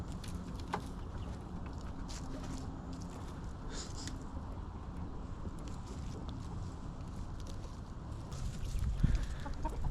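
Chickens cluck softly beside a pond on a rainy day, scattered short calls over a constant background wash of rain and water noise, fairly distant and low in level.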